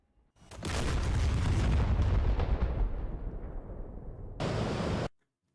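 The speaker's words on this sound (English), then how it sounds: "Well, there you go. Another explosion." An explosion in the DCS F-16C flight simulator game: a sudden heavy boom that rolls into a long rumbling roar, then decays before a second short burst of blast noise cuts off abruptly.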